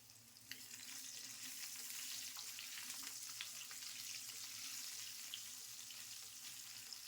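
Long-cut potatoes fry in hot oil seasoned with black cumin for a winter vegetable fish curry, giving a steady close sizzle with faint stirring scrapes and no talk.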